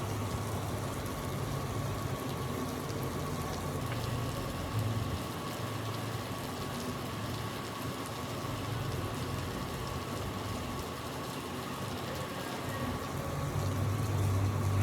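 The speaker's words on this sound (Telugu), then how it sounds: "తిరుపతిలో వర్షం పడుతుంది" Steady rain falls over Tirupati, a dense even hiss with a low rumble underneath, continuous and unbroken throughout with no voices.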